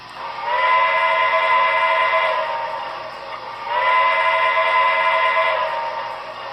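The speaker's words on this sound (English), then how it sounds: "F2 is the whistle." A multi-tone steam whistle sound effect from a Broadway Limited C&O L-1 Hudson model locomotive blows twice, each blast long and steady with a brief gap between, fairly loud with faint background hiss.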